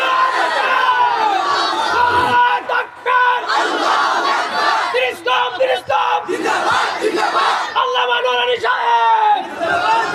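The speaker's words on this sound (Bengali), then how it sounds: "দুহাত তোলে আল্লাহু আকবার উচ্চারণ করে দাও, নারায়ে তাকবীর আওয়াজ দিয়ে দেখায় দাও।" Large crowd at a religious rally in Kishoreganj, Bangladesh roaring the Nara-e-Takbir and Allahu Akbar chants in loud, sustained, overlapping shouts that rise and fall in waves, close and dense.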